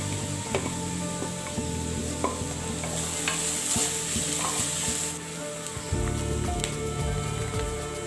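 Green chillies stir-frying in a pan for samosa filling, a loud close sizzle with frequent scraping and tapping of a spatula against the pan throughout, no speech.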